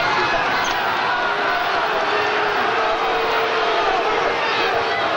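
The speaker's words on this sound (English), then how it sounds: "I'm not sure why the crowd's upset with that" Basketball arena crowd during a 2002 college game, a dense, steady roar that sounds upset and stays loud throughout without a clear peak.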